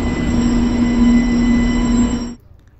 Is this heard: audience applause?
no